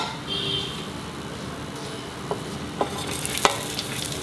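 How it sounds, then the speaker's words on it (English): Onions frying in oil in a pan over a low to medium-low gas flame for a Valchi bhaji curry, a steady soft sizzle with a few light clicks of stirring, moderately close and without talk. "I have to fry the onions for seasoning."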